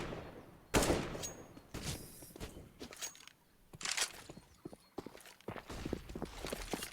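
Gunfire in the video game CS:GO during a competitive match, with bursts of shots and sharp spaced reports heard through a wall, mixed with footsteps and faint game sounds.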